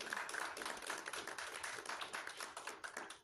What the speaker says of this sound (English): We hear the applause, Dave.